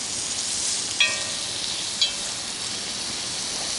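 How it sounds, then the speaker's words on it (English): Meat sizzles and fries in a pan over an open fire, a steady hiss with two brief clinks of a stirring utensil. "till it starts to sizzle and brown the meat a little bit"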